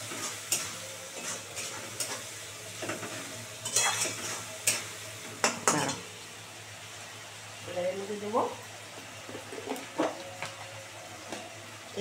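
Katla fish head being sautéed with salt in a pan, with intermittent clinks and scrapes of stirring over a soft background sizzle and a few brief bursts of voice.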